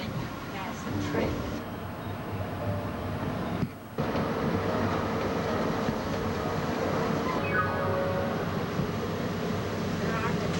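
A train rumbles past steadily with a continuous rolling roar and a brief dip near the middle, while a voice talks over it.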